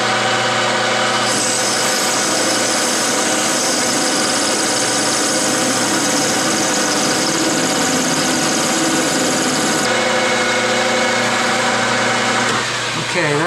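A lathe spins at about 1000 RPM, giving a steady, loud mechanical hum with a constant drone and vibration. The tone shifts slightly near the middle and again toward the end.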